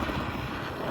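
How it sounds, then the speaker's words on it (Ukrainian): Wind blows hard and steadily, rumbling against the microphone in a brief gust. "Ох і вітер."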